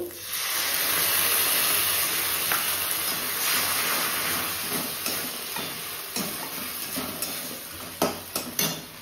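Onion and capsicum stir-fry with ginger, garlic, soy sauce, chilli sauce and tomato ketchup in a hot pan, a steady hiss and sizzle, then metal utensil clanks and scrapes against the pan toward the end.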